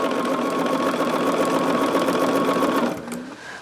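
Sewing machine running steadily, stitching quilt pieces together at a quarter-inch seam, a continuous close mechanical hum and rapid needle rhythm that slows and stops near the end.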